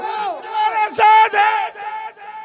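A crowd at a gathering outside the Karachi Press Club roars back in unison after a Takbir slogan call, a loud sustained chorus of many voices rising and falling in two or three surges.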